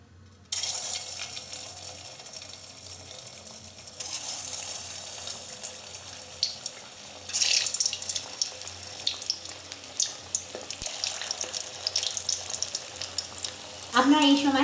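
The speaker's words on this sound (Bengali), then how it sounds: "আমার তেলটা গরম হয়ে গেছে, এবার আমি এতে একটা একটা করে পিঠে ছেড়ে দিচ্ছি।" Pithe rice cakes drop one by one into hot oil and fry with a steady, broad hiss and sizzle that swells as each cake goes in, close and continuous, with no talk.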